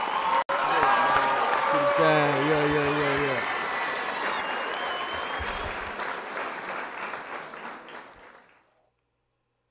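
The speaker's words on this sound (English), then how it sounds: "Let's applaud" Audience applause at a dating show, a dense, loud wash of clapping from a crowd that thins out and fades to silence, with a person talking over the start.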